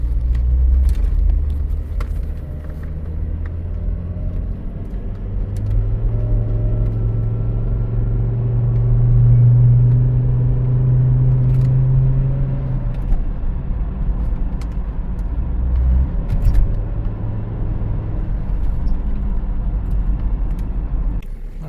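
Volvo XC70 on a test drive, heard from inside the cabin: a steady low engine and road rumble that swells as the car accelerates, then eases, continuous and fairly loud with no talking.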